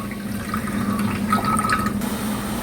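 Tamarind water squeezed from the pulp is poured into a pan of boiling water for a South Indian drumstick and taro sambar, giving a close, steady splashing pour over the simmer with no talk.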